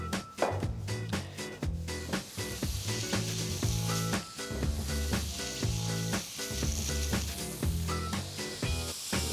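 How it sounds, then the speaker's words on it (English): Diced ham sizzles in a pan with a little oil as its fat renders, a loud, steady crackling hiss that runs throughout over rhythmic background music. "put it into our pan, and we're gonna let the fat render off the ham"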